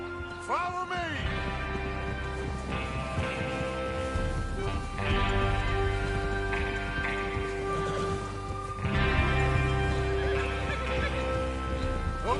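Horses whinny and neigh over steady hoofbeats and a dense soundtrack in Red Dead Redemption 2, with a brief neigh early on and continuous galloping throughout.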